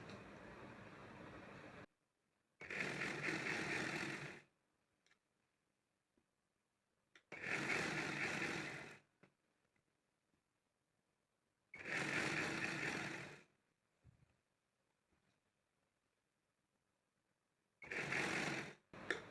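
A sewing machine stitches pleats into a salwar, running in four loud bursts of about two seconds each, separated by near-silent pauses with faint handling clicks.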